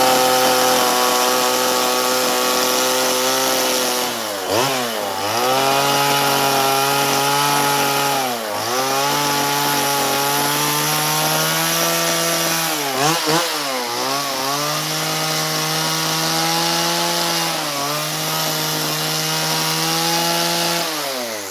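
A chainsaw carving a wooden Bigfoot sculpture runs loud and close for the whole stretch, its steady whine dipping every few seconds as the blade bites into the wood and then climbing back to full speed.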